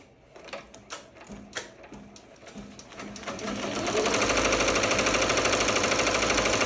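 A Ricoma MT1501 embroidery machine stitches a leather vest, starting with scattered mechanical clicks and taps, then settling into a steady, loud, rapid rhythmic needle chatter that continues to the end.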